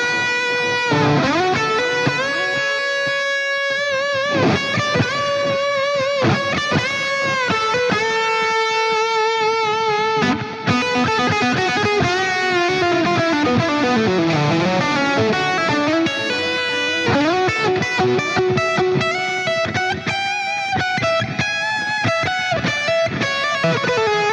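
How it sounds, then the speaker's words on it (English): Electric guitar through a ping pong digital delay bouncing repeats from side to side, with a continuous overdriven melody of sustained notes and bends echoing steadily and loud, no voices. "And that's a ping pong delay, so it's going from side to side."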